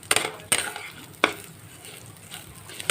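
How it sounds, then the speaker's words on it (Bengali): Gobindobhog rice frying in ghee in a pan, sharp scraping strokes of a spatula every half second or so over a quiet sizzle, heard close up. "চালটাও আমার প্রায় ভাজা হয়ে এসেছে।"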